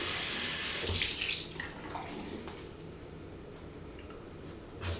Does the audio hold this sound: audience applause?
no